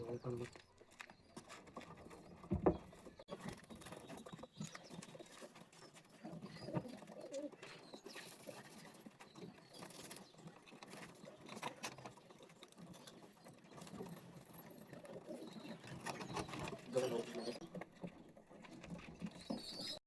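Birds in a coop chatter, flutter and coo in soft irregular bursts, with a busy patter of movement throughout, while people talk nearby over the sounds.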